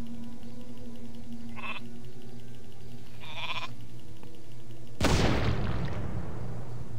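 Sheep in Warcraft 3: Reign of Chaos bleating twice in short wavering calls over a low ambient music drone, then a sudden loud explosion bursts out and rumbles away.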